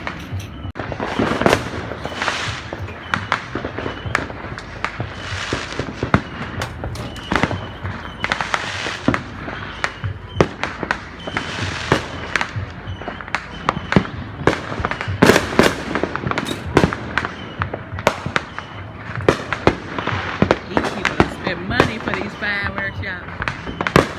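Fourth of July fireworks and firecrackers pop and crackle nearby in dense, irregular bursts over a backyard grill gathering, sharp close bangs mixed with faster crackling runs, with occasional voices in the background.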